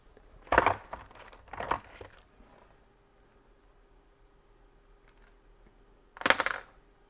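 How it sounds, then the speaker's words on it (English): A plastic zip tie is cranked down around an engine air filter, giving two quick ratcheting bursts close by, then a pause and a final short ratchet, with no talk. "So we'll go ahead and crank that zip tie down."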